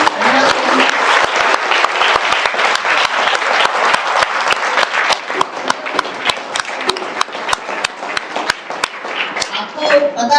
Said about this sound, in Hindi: सर का जोरदार तालियों से अभिनंदन करें